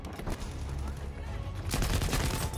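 Light machine gun fire in Battlefield 5, rapid bursts of shots with a heavier flurry near the end, mixed with game sounds at moderate loudness.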